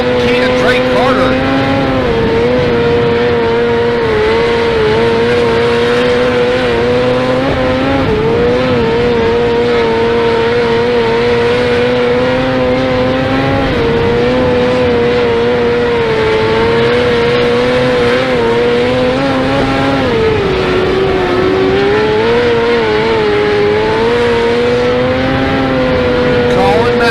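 Legend race cars circle a California short track, a dense pack of engines droning and revving steadily, loud and continuous, under excited race commentary.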